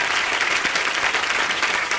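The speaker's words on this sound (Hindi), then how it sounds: "जोरदार तालियां हो जाए एक बार।" Studio audience at a Hindi comedy talk show breaking into loud, dense applause, a continuous full roar of clapping from many hands, sustained evenly from start to finish.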